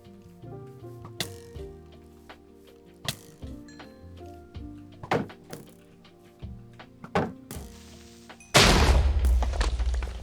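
A large Minecraft explosion bursts loudly near the end, following a stretch of sparse plucked tones and scattered thuds, then rumbles away.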